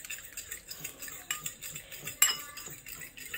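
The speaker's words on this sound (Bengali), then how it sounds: "তেল দিয়ে এটা ভালো করে হচ্ছে মিক্স করে" Gulab jamun dough is mixed with oil in a bowl: a spoon scrapes and stirs softly, with a few sharp clinks against the bowl, close and fairly quiet, with no talking.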